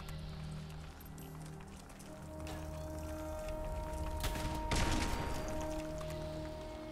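Gunfire at a Mirelurk Hunter, a lobster-like creature in the Fallout 76 video game, shot from a building rooftop: a couple of faint, quick bursts of shots over a low, steady game backdrop.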